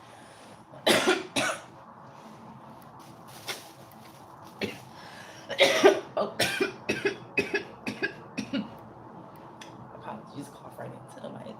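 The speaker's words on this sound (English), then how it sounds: "Apologies, cough right into the mic." Someone coughs hard right into a streaming microphone, two harsh bursts followed by a run of smaller rapid coughs and throat clearing, very close and loud, with brief speech in between.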